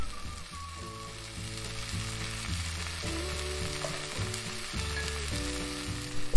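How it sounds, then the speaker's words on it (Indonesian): Vegetables stir-fry in a pan over high heat with a steady, dense sizzle. Faint melodic background music plays underneath, and a brief clatter comes at the very end. "Kita tumis dengan api besar."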